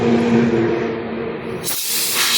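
Refrigerant gas hisses steadily and loudly out of a leaking, rotted intercooler on a two-door refrigerator, then cuts to a brighter, harsher spurt of spraying gas near the end.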